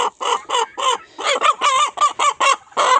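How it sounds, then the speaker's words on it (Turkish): A rooster clucks loudly and close by, a rapid run of about a dozen short, throaty calls with brief gaps between them. "En güzel horozumu seçtim."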